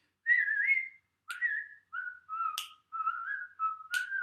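A person whistles a tune in a fitness-singalong class, a series of clear sliding notes in short separate phrases, alone and close.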